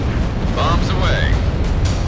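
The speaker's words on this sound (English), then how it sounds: "Bombs away." Bombs dropped on ground targets in the flight combat game Ace Combat 6, a brief, loud, rumbling blast mixed with jet noise, with radio voices speaking over it.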